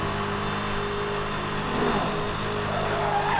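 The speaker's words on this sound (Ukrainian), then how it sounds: "Так, прискорююсь. Тут пряма дорога. Під 300." A car accelerates at high speed down a straight road in Need for Speed: Hot Pursuit (2010), giving a continuous loud engine roar with a rising whine and no talking.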